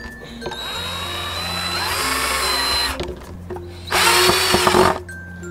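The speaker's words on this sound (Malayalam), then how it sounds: "ഒരു സ്ക്രൂ ഡ്രൈവറോ അല്ലെങ്കിൽ നമ്മുടെ ഹാൻഡ് ഡ്രില്ലോ വെച്ചിട്ട്" A hand-held power drill whirs in two long bursts while tightening screws on an electric skateboard wheel, loud and near, its pitch shifting under load, with a short pause between runs.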